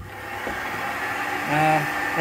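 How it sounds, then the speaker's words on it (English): An old-fashioned vacuum pulls away dust while a recycled steel ring is polished. It gives a steady whooshing drone with shifting tonal whine, rising in intensity near the end. "an old-fashioned vacuum, which was really good."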